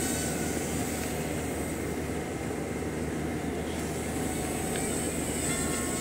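Small one-cell indoor quadcopter drone with a red canopy flies nearby, its propellers giving a steady, even whirring drone that persists throughout without pause.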